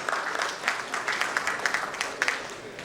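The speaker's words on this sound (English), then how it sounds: "I would like to call on stage with a big round of applause, Mr. Rahul Poduval, Director, Data Analytics" Audience applause welcoming a speaker to the stage at a banking summit, a steady wash of clapping with a few sharper individual claps standing out, moderately loud and without talk.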